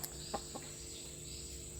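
Fourteen-month-old laying hens in a free-range setup give a couple of soft, brief clucks near the start, faint over steady insect-like outdoor background noise.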